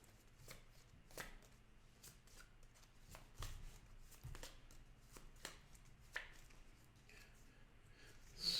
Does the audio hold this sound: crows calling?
no